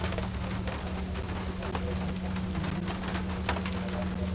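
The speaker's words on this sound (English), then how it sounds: "Oh, I am getting a little rain on me." Rain falling on a small shed with an imperfect, leaky roof, heard as a dense continuous patter of drops with a low steady hum beneath it, close and fairly constant.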